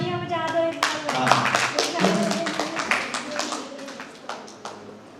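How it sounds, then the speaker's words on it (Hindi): Audience hands clapping at a brain-activation workshop in Raipur, sharp separate claps in an uneven rhythm mixed with a voice talking and a sustained tone at the start, thinning out toward the end. "सारी तालियां बजा दो एक बार"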